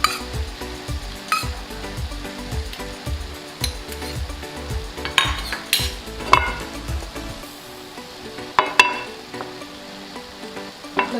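Two or three spoons of oil heat in a hot pan for a potato dish, a steady sizzle with regular soft knocks and scrapes of stirring, then scattered sharp clinks of utensils against the pan.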